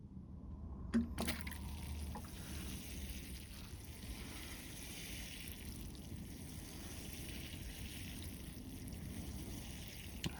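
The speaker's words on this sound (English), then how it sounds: "let's get some water on here" Water poured onto a freshly repotted Chinese elm bonsai, a faint, continuous trickle and soak into the soil after a brief handling knock, quiet and close.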